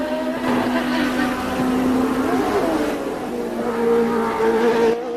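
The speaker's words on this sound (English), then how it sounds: "queste che vede la vettura emergere da un lieve dosso di questo tracciato stradale dell'Australia del Sud" Williams Formula 1 race car on the Adelaide street circuit in South Australia, its engine a loud, steady high-pitched drone that rises and shifts pitch as the car crests a slight bump, continuous for the whole stretch.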